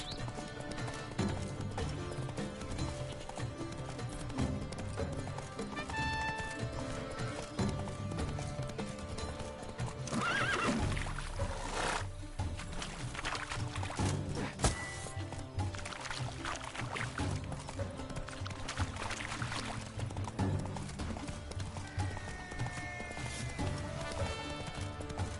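Geralt's horse Roach from The Witcher 3 gallops with steady clip-clopping hooves, a brief whinny rising midway, all fairly faint under game ambience.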